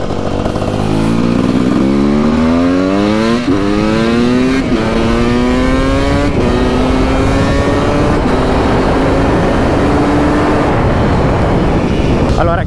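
A Beta 300 motorcycle revs hard and accelerates through several gear changes, its engine note climbing and dropping in loud, close, steady sweeps with continuous wind and road noise throughout.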